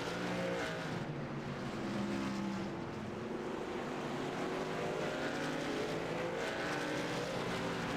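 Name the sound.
racing trucks' engines in a sim racing video game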